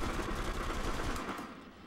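Rapid gunfire from shooting at targets in an Area 51 raid video game, a dense continuous burst that stays loud for most of the stretch, then tapers off near the end.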